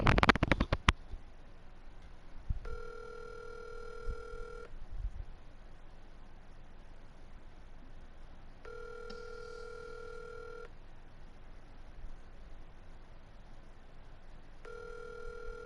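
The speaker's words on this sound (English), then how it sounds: "Let me give him a phone call real quick." A telephone call: a brief burst of dialing tones, then three evenly spaced ringback tones, each lasting about two seconds with long pauses between, faint and steady over quiet background.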